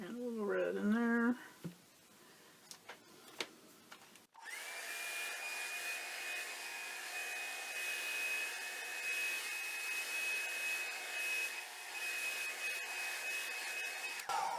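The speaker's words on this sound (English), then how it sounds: "Dryer dries it way faster." A hair dryer blows steadily over alcohol ink, a constant loud whooshing drone with a thin whine that runs from about four seconds to the end, after a short stretch of speech and a few clicks.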